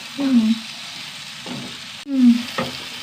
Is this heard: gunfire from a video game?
no